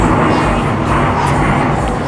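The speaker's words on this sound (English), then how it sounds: "Excuse me, plane, we're trying to exercise here." A fixed-wing airplane passes overhead outdoors, a steady broad roar filling the short stretch at moderate loudness with no talk.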